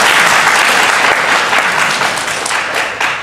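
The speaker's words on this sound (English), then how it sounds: "That was a 5-second clap, Matt." Convention audience clapping steadily for a few seconds, a dense, loud wash of applause from a large crowd that tapers slightly toward the end.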